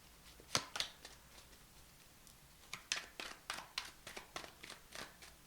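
Tarot cards being shuffled with some difficulty, a sparse handful of crisp snaps early on followed by a quicker series of papery flicks and riffles, close but quiet.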